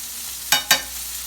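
A dollop of garlic oil hits a hot pan holding roasted Brussels sprouts, giving two quick, close sizzling bursts about a fifth of a second apart over a quiet background.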